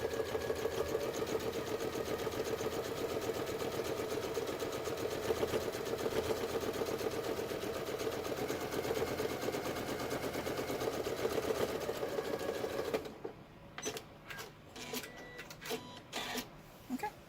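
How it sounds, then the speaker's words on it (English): Sewing machine stitching the final seam of a quilt binding, running in a steady, fast mechanical whir for about thirteen seconds before stopping, followed by a few light handling taps and rustles. "So now all I have to do is sew this last seam."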